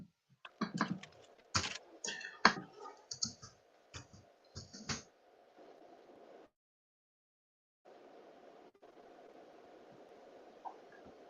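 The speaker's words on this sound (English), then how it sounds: "I could just type in implant." Quick clusters of computer keyboard keystrokes click up close, then stop, leaving a faint low hum.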